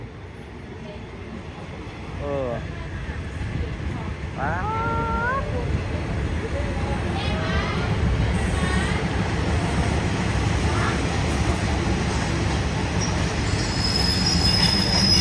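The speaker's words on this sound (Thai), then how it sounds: "รถไฟมาแบบจังหวะเหมาะเมงมากเลยอ่ะ" A train rolls past with loud, rising metallic wheel squeals that come in several bursts over a steady rumble, while people talk briefly nearby.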